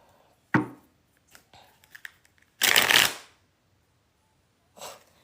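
Tarot cards shuffled by hand at close range: a sharp riffle at the start, a longer dense shuffling burst in the middle and a short final flick, with soft handling noises between.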